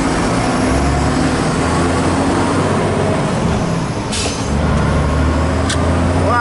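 Truck pulling away, its engine rumbling low and loud throughout, with a short hiss of air brakes releasing partway through and a second brief hiss near the end, heard close from inside the cab.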